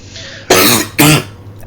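Two loud, harsh coughs in quick succession, close to the microphone, following a quiet moment.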